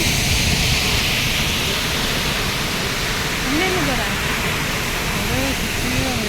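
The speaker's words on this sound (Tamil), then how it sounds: "ஃபால்ஸில் இருக்கோம்" Athirapilly waterfall rushes in a steady, dense roar of falling water, with people talking over it.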